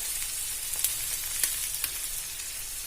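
Chicken sizzles steadily in a pan as Kashmiri chili powder goes in, a constant hiss of frying oil with a few sharp crackles and pops on top.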